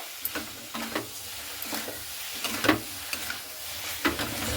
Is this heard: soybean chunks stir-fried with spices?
yes